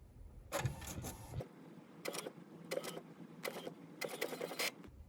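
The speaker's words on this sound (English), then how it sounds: "It's printing." An inkjet printer feeds and prints onto a large envelope, giving bursts of whirring, rattling carriage motion separated by brief pauses over a low motor hum, fairly quiet and close.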